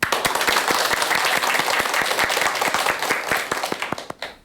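An audience applauds a Buddhist monk before his short dharma talk, a dense burst of clapping with sharp individual claps standing out, steady and loud before fading out toward the end.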